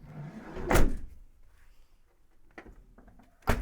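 The door of a 2013 Renault Trafic long-wheelbase passenger van with a 2.0 engine closes gently, a soft close thud followed by quieter clicks and a second latch thud, nearby in a quiet setting.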